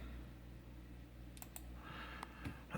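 Computer keyboard keys pressed to type a stock symbol into a charting website, a few quick, close taps over steady low background hum.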